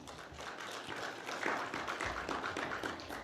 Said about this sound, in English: let's welcome Didi Ji with a round of warm applause